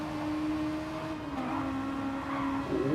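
Honda Civic race cars run in a tight pack at Road Atlanta, their engines droning loud and continuous, with pitch shifting as cars jostle past and brief tire squeal.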